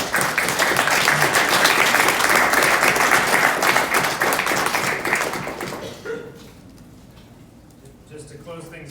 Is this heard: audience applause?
yes